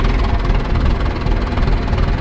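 Zetor 25 tractor engine idling at low revs while its hydraulic lift raises a harrow, a steady close low rumble with continuous vibration and no voices.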